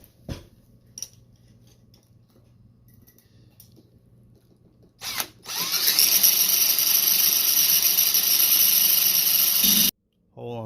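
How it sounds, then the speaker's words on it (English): Power drill boring a hole into a locked Mercury outboard lower unit: after a quiet stretch with faint knocks, a brief burst, then a loud steady high-pitched whine for about four seconds that cuts off abruptly, followed by a short restart. "on the other side, I'm going to drill another hole"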